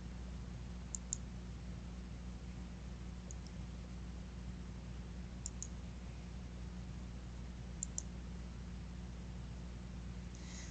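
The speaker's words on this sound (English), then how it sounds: "click once with your left mouse button on the program" A computer mouse's left button clicked in short pairs, about four double-clicks spaced a couple of seconds apart, faint and crisp over a low steady hum, with no voices.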